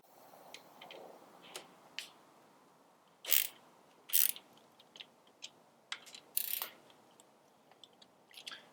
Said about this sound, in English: and you're going to loosen these two bolts.